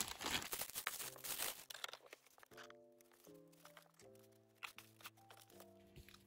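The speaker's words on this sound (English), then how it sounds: "So let's cut this open and set it all up." Plastic packaging around a Banpresto Espresto One Punch Man Terrible Tornado figure statue crinkles and crackles close by as it is cut open, busy at first then thinning out under soft steady background music.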